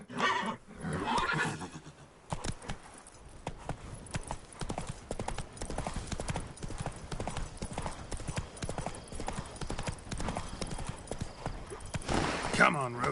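Roach, Geralt's horse in The Witcher 3, gallops with rapid, continuous hoofbeats close by, a whinny near the start, and talk over the running.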